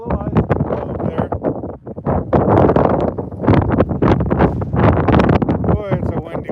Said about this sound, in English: Boy, it's a windy one.